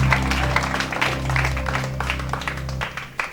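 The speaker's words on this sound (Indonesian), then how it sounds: "memberikan tepuk tangan yang paling meriah" Applause for the bride and groom at a wedding reception, a steady wash of clapping over a continuous low hum of background music, filling the whole stretch.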